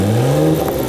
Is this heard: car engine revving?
yes